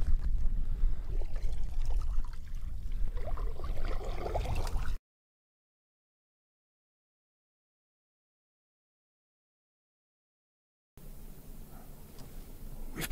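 Canoe on a lake in rolling hill country at Temagami's Wolf Lake, with soft water and paddle sounds under wind noise near the microphone, broken by a long silent gap before the watery ambience returns.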